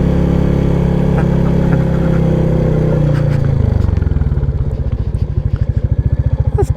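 A modified 350 motorcycle engine runs loud and close under throttle, a steady roar that drops at mid-clip into a rapid, pulsing thump as the engine note falls and the beats become distinct.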